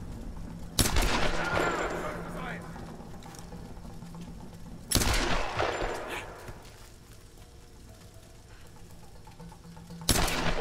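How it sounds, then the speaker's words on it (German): Three bursts of gunfire in Tomb Raider, each a loud broadband crack followed by a rattling decay, spaced a few seconds apart with quieter hum between. "Wie viele Schüsse vertragen die denn, ey?"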